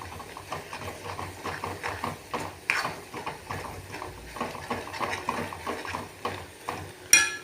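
Ingredients sautéed in a pan until browned give a soft, irregular scraping and stirring rhythm with a faint sizzle, close and quiet, and a sharper clatter near the end.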